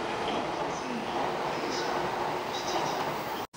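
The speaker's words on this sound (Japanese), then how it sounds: "こちらは7時43分発総武快速線直通の津田沼行きです。" A commuter train for the Sobu Rapid Line toward Tsudanuma at Musashi-Kosugi station on a crowded morning gives a steady, close rumble, with a brief sharp break near the end and no clear voices.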